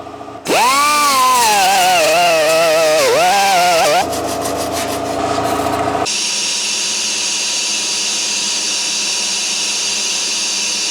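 Cleaning out a cracked copper radiator top tank from an old Dodge truck: a loud power tool whines and wavers in pitch for several seconds, then changes to a rougher rasp before fading into a steady hum.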